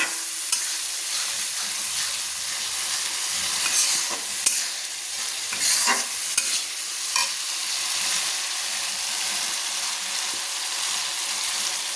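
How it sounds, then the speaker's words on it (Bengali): Spice paste with ginger being fried and stirred in a pan, a steady bright sizzle with occasional scraping stirs and sharp clicks of the utensil against the pan, nearby and without speech. "আদাটাকে পেস্ট করে রেখেছিলাম দিয়ে ভালো করে মশলাটাকে কষিয়ে নিচ্ছি"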